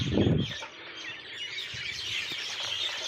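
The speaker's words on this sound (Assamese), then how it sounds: "চৰাই আৱাজ চাওকচোন" Birds chirp and tweet over open farm fields in the late afternoon, with thin repeated calls at a moderate distance after a short low rumble at the start.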